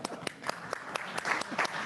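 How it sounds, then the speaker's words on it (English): A few scattered claps come from the audience at a manufacturing AI symposium keynote panel, faint and irregular, about eight sharp hand claps spread across the moment. "I heard a few claps in the audience there"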